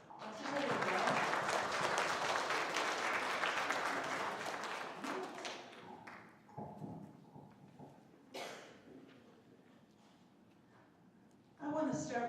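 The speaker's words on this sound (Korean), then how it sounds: "박수 쳐드릴까요?" A church forum audience in Fresno, California claps loudly and steadily for about five seconds. The applause then thins and fades into quieter room sounds and brief voices, and a short burst of noise returns at the end.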